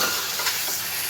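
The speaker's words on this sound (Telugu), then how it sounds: "చికెన్ ఆయిల్లో బాగా ఫ్రై అవ్వాలి." Chicken pieces frying in hot oil in a pan, a steady close hiss and crackle of sizzling with no voices.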